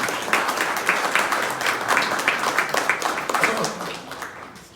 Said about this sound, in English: Please wave your hands and let's give them a round of applause.